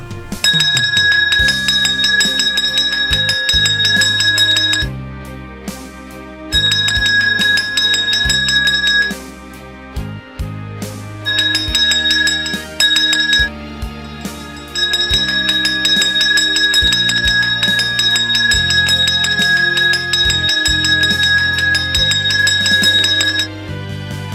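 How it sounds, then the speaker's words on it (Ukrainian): A loud, bright school bell rings in long, sustained bursts with brief pauses between them, marking the first bell at a school opening ceremony for the new year. "Хай пролунає перший дзвінок."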